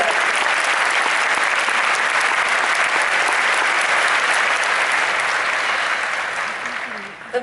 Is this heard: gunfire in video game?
no